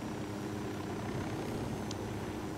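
A helicopter in the video game Ghost Recon Wildlands flies with a steady, dense rotor and engine drone that fills the whole stretch evenly, no talk over it.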